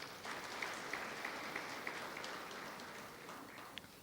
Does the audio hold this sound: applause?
yes